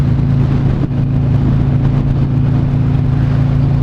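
A Harley motorcycle engine drones loud and steady while riding, a continuous low rumble with a faint whirring layer and no talk over it.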